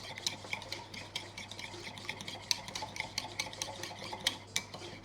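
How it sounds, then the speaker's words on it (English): A whisk beats ketchup and mayonnaise thinned with plenty of pickle brine in a bowl, giving quiet, steady clinking and stirring taps against the sides, heard alone. "And you gotta whisk it."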